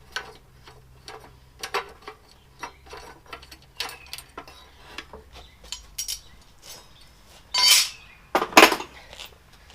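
A 10mm socket wrench loosens a bolt, giving a string of light metallic clicks and taps that end in two louder, sharper rattling bursts, close by with no talking.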